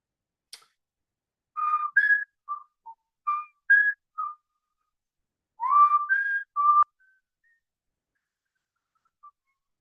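A person whistles a short tune alone in a series of clear, melodic phrases with brief pauses between them, fairly close and with no talking.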